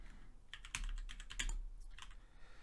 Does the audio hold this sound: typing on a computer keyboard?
yes